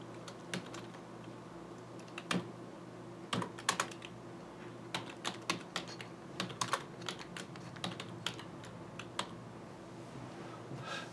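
Computer keyboard typing at close range, a steady run of quick uneven key clicks with occasional louder taps, no talking.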